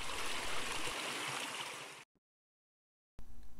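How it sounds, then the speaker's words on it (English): Mountain stream rushing through a narrow, steep rocky drainage in Alberta, a loud steady broadband flow up close for about two seconds, then cutting to silence before the water noise returns. "There's a stream here,"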